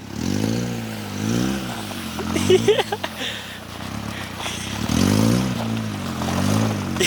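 Mazda Miata engine revving hard with wheels spinning on a frozen lake, the rising and falling drone surging in long waves while people talk over it and short clattering sounds break in midway.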